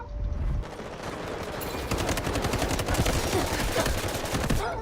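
Rapid gunfire from the Delta Force video game rattles through the whole clip, with dense bursts and sustained automatic fire at steady loudness and no speech over it.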